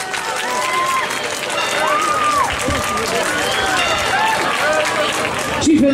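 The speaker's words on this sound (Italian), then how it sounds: "il vostro applauso farà in modo di dare un maggior voto alla nostra carissima Ellison" An open-air audience in a town square at a karaoke night claps steadily for a singer, a sustained wash of applause with a voice speaking over it.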